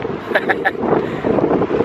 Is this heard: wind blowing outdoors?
yes